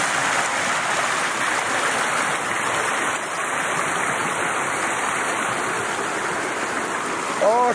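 A brook's whitewater rushing over rocks into deep pools, a steady close wash of flowing water throughout with a brief faint voice near the end.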